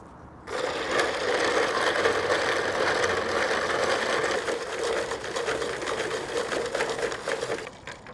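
Brine and melting ice get whisked in a plastic briner bucket, a fast, continuous rattling and churning close up that starts abruptly and runs steadily for about seven seconds before stopping.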